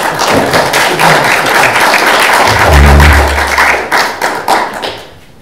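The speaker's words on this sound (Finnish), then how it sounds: "Aplodit kaikille keskustelijoille." Loud, close applause for the discussants at a Finnish memorial seminar, a dense patter of hand claps with a brief low thump in the middle, tapering off at the end.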